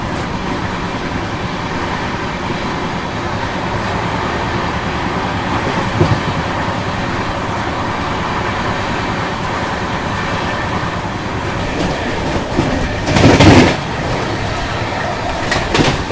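A Rajdhani Express train runs at speed past the standing Andaman Express, giving a steady, loud rolling rumble of rail cars with a brief louder rush of wind and clatter near the end.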